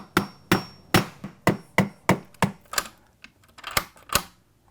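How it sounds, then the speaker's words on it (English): A hammer drives a chisel into wooden brick molding on a storm door jamb, giving about a dozen sharp, close strikes in a steady rhythm, then a few lighter, more spaced taps. "so I'm going to have to chisel that out just a little bit"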